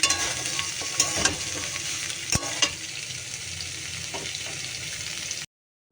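Potatoes and onion sizzle in oil in a wok, a steady close crackle with a few sharp spatula knocks and scrapes early on, settling into an even hiss before cutting off abruptly.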